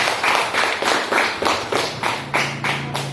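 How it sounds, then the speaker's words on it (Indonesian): A classroom of students clapping for a classmate, a close, steady run of brisk claps in rhythmic bursts that carries on throughout. "Kasih aplaus sama."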